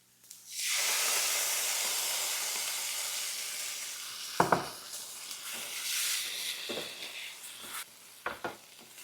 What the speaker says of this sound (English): Stir this up, and then I'm going to add 8 ounces of tomato sauce.